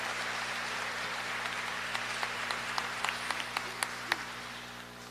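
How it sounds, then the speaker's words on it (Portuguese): Applause for the cardinal during Mass at a church in Rio de Janeiro, a sustained wash of clapping from a congregation with a few sharper individual claps standing out before fading. "Ao nosso cardeal também uma grande salva de palmas"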